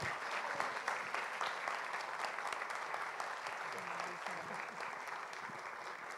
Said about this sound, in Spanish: Un aplauso a Jesucristo.